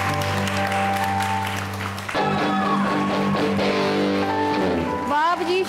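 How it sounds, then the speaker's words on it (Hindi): A studio audience at an anniversary celebration on a television variety show applauds steadily beneath sustained tonal music and voices, with the clapping partly masked by the louder harmonic sounds. "बहुत सारी तालियां"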